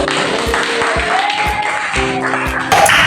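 A class of eighth-grade students at a junior high school applauds their teacher, a fairly loud, steady patter of clapping close by, with a brief voice and a few sharper taps standing out.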